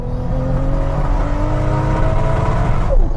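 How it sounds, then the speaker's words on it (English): Toyota Supra A80 with a twin-turbo straight-six accelerates hard, its engine note loud and close, revs climbing steadily over a few seconds with a brief shift-like break near the end. "floor the throttle, build up the revs, and off we go, bit of spin"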